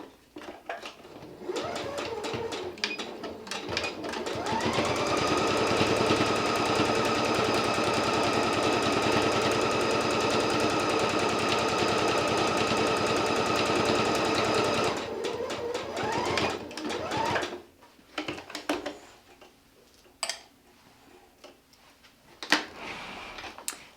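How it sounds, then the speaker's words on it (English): A sewing machine stitches binding onto a quilt, a rapid steady whirring clatter that runs for about ten seconds, then stops, followed by scattered handling clicks and fabric shuffles. "take this back to your sewing machine, and now you'll just secure this to"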